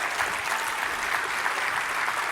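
Steady applause from a conference audience fills the space, dense and continuous clapping with no gaps, heard alone without talk for a couple of seconds.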